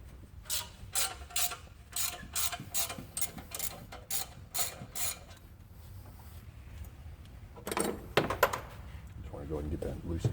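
A socket ratchet loosens bolts on a Chevrolet Silverado cylinder head in rapid, rhythmic bursts of close metallic clicking, followed by softer scraping and handling noises.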